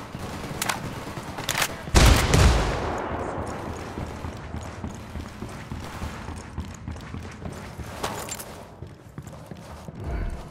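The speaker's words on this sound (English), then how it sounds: "I'm opening fire on these shitheads." Gunfire in the shooter Ghost Recon Wildlands: several sharp shots, one loud heavy burst near the start, followed by scattered distant cracks and reverberant tails.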